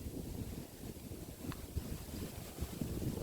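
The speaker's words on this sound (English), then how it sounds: "But we have a very windy day here today." Gusty wind buffets a homestead vegetable garden of tomatoes, peppers and marigolds, a rough, continuous rumble with microphone buffeting and faint rustling, moderately loud and steady with no talking.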